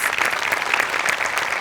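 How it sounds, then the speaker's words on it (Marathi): Crowd applause at a Maharashtrachi Hasyajatra comedy show, continuous close clapping from a studio audience throughout the short stretch. "ह्याच्यासाठी तुमच्यासाठी टाळ्या वाजल्या पाहिजे."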